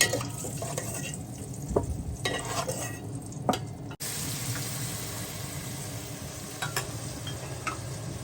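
Eggs frying in a pan for egg biryani give a quiet, steady sizzle under repeated stirring scrapes, with a brief cut partway through.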